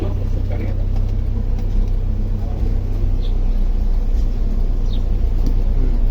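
A car engine runs during a driving lesson with a low, steady rumble close by that holds fairly even throughout.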